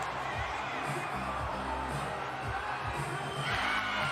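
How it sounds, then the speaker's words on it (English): Basketball crowd at a FIBA 3x3 World Series semi-final game in Cáceres cheering steadily throughout, a continuous roar of many voices swelling slightly louder near the end. "as you hear the fans cheering"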